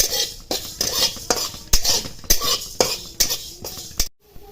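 Onions being roasted in a pan for Shingori amti, with sharp clinks of a metal spoon or spatula scraping and stirring in a steady rhythm that stops abruptly near the end, close and moderately loud.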